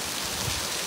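Steady rain pours down outdoors, a dense even hiss of falling water with no voices over it.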